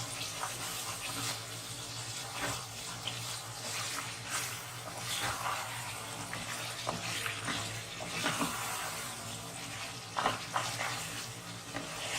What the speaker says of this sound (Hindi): अब मैं इसको अच्छी तरीके से भून लूंगी।